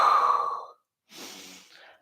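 A voice hums a tone briefly, then after a pause a long, audible breath out comes during a Pilates exercise, close and soft, trailing off at the end.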